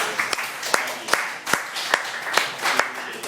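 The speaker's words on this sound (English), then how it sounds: "Give yourself a round of applause." Scattered audience applause from a small group of officers, with a handful of sharp individual claps standing out at an uneven rhythm over a softer bed of clapping, moderately close with no talk.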